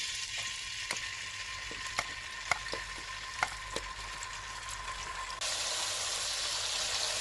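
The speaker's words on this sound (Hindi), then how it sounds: "ऑयल हमारा गर्म हो चुका है, तो अब हम इसके अंदर अदरक और लहसुन का पेस्ट शामिल करेंगे" Ginger garlic paste fries in hot oil with a steady, close sizzle and a few sharp spatula taps against the pan, the hiss brightening toward the end.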